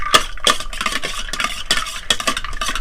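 Aloo kabli of potato, raw chickpeas, lemon and tamarind water being stirred and mixed in a bowl, with loud repeated scraping strokes and clinks in an uneven rhythm and no voices.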